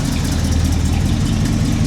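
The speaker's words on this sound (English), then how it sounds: "Oh, I hear a header leak." A Chevy C10 hot rod engine idles with an exhaust header leak, giving a loud, steady low rumble close by and a faint ticking edge, with no speech.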